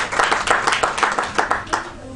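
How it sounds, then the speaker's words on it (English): A crowd at a family reunion claps steadily for the organizers, a close, busy patter of hands with a loose rhythm throughout. "you deserve a round of applause"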